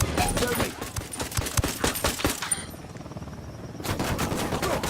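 Bursts of rapid automatic gunfire in a shooter video game, loud and close, with a short lull before the firing resumes; voices speak in the mix.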